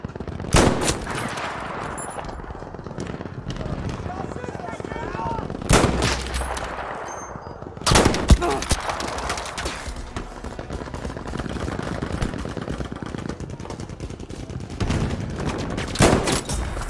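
Battlefield 5 gunfire comes loud and close, with sustained bursts of automatic fire and sharp single shots over the background noise of the game.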